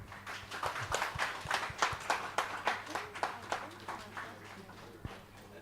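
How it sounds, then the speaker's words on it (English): Scattered applause at a Catholic press association convention as a guest speaker is welcomed, fairly faint and uneven, with distinct individual claps rising and thinning over several seconds under a quiet room hum. "One more applause."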